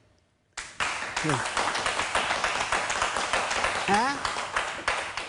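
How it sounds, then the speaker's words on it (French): Studio audience clapping on a French-language talk show, a steady dense patter starting abruptly and running throughout, with someone speaking briefly over it. "Applaudissez."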